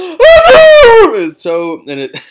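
A loud, strained vocal wail building to an explosive burst, then several shorter voiced bursts, a person imitating a booming sneeze.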